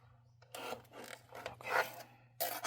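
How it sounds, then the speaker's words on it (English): Craft paper being trimmed on a paper trimmer: several rasping, scraping strokes of the blade along the sheet, close and fairly quiet over a steady low hum, with no talk. "I'm going to trim both sides because I bent it a little bit"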